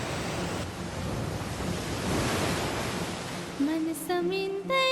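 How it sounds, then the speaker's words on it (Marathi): Ocean surf washes onto the shore at a beach in Ganeshgule as a steady, broad roar close to the microphone with wind buffeting, and a voice starts speaking over it near the end. "समुद्रांच्या लाटांचा आवाज घेणार आहे"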